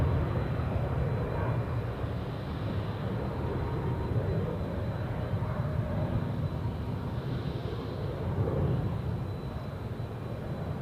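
An airliner climbing away after takeoff from Zurich Airport, already at some altitude, leaving a faint, distant, steady engine rumble that holds without much change and no voices.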